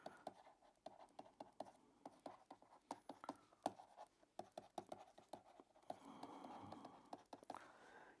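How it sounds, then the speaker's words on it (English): Pen writing by hand on paper during an accounting lesson, a quiet run of short scratchy strokes and taps close to the microphone, with a denser scribbling burst near the end, no talking. "I am trying to write a little more legibly"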